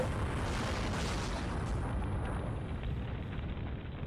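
The 1898 explosion of the USS Maine battleship in Havana harbor is rendered as a continuous, dense roaring rumble that fills the whole stretch at steady loudness, with no voices.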